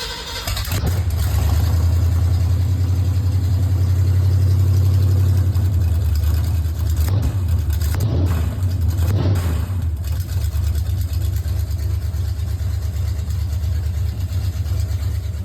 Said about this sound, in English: you gotta fire the car up